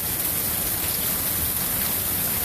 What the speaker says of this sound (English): It's been a long time since I've seen it rain this hard.